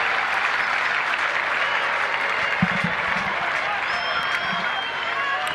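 Sustained cheering and applause from a large rugby crowd at an England v Argentina match, a steady broad roar that holds for several seconds with a few louder shouts rising out of it.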